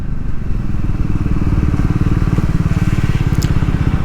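Triumph Speed 400 motorcycle under way, its single-cylinder engine thumping steadily and loudly up close in a dense, even pulse throughout, with no break or change.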